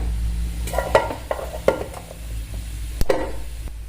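Mustard seeds and cumin hit hot oil on a wood-fired stove, giving a steady close sizzle broken by a few sharp crackling pops and light stirring clinks, with no voices.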